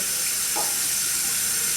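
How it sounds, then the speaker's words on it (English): Hot water runs steadily from a tap into a jar of Vaseline, a continuous loud rushing hiss with no pauses, close up and without speech. "We'll run some hot water into the jar of the Vaseline."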